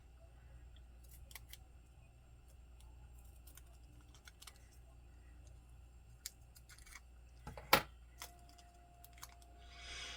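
Scissors cutting a small sticker for a paper planner: a few quiet, sparse snips close by in a calm room, with one sharper cut near the end.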